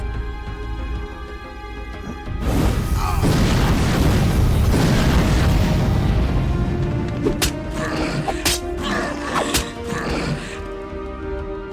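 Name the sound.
magic missile spell hitting, from video game Age of Wonders II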